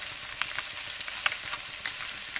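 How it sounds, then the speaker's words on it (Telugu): Tilapia fish fry in hot oil, giving a steady, close crackling sizzle with small pops and spatters throughout and no talking. "4 చేపలను నేను ఫ్రై చేసుకున్నాను."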